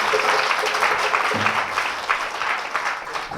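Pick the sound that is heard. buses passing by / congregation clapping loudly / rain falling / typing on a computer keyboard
congregation clapping loudly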